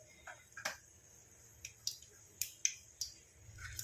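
Mustard seeds and cumin pop and crackle in hot oil on a tawa while making poha, giving scattered sharp snaps that come irregularly at close range, quiet between the bursts.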